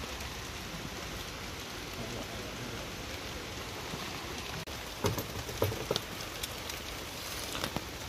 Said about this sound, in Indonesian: Ini posisi gerimis nih, gerimis lebat hujan.